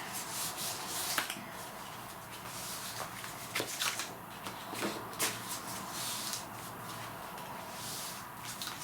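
Paper being folded for a large-format birthday scrapbook album, with close crisp rustling, rubbing creases and a few sharp crackles spread unevenly over several seconds, with no talking.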